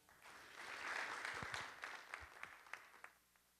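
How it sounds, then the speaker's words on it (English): An audience applauds a guest speaker, Dr. Samina Raja, at a lecture event: quiet, distant clapping swells into a dense wash, then thins into scattered claps before dying away. "Please join me in giving Dr. Samina Raja a round of applause"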